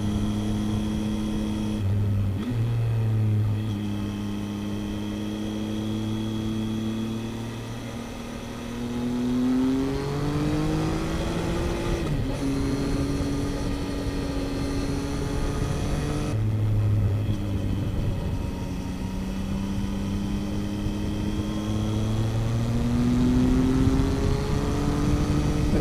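A Triumph Tiger 800 motorcycle rides along a scenic road in Glenshee, its engine a steady loud drone heard from the rider's position. The pitch rises and falls through gear changes, set against constant wind rush, with no talking.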